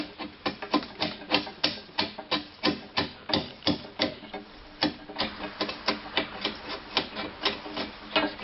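A long chisel cuts across the end grain of a wooden post in a quick run of sharp, regular tapping strikes, each one close and crisp, with no voices.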